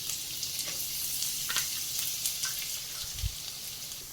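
Chopped garlic frying in hot oil with cumin and chillies for palak paneer, giving a steady, close, bright sizzling hiss with a few small pops and one dull knock near the end.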